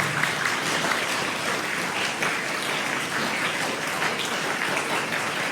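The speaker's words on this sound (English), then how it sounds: "Let us give a good round of applause to all these new leaders of Infant Jesus School." Steady applause from a school audience at an investiture ceremony honouring new student leaders, dense and continuous clapping at even loudness throughout with no talk over it.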